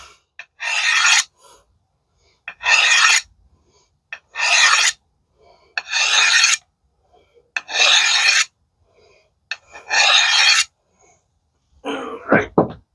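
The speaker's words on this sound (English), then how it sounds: "And hit it with a butcher's hone." A kukri blade is drawn along a butcher's hone in long rasping strokes, six or seven separate swipes each lasting about half a second to a second, spaced by quiet pauses and close to the listener.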